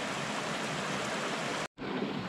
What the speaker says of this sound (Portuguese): Cá está a água.